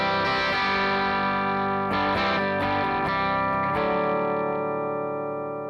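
An electric guitar played completely dry, without effects, rings out in sustained chords with a few sharp strums midway, loud and alone with no talking.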